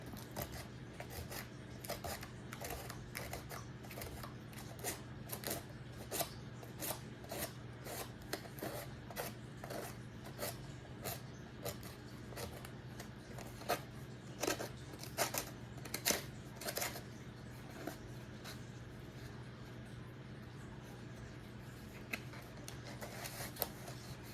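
Hand sanding on a piece of walnut wood, with quiet, steady rasping strokes repeated at an even rhythm over a low background hum, close and fairly soft throughout.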